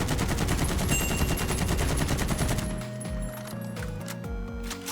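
Cold War-era automatic guns firing in the video game Warzone during a recoil-control test against a wall, a rapid, dense burst of shots for about two and a half seconds that then fades into sparse trailing echoes.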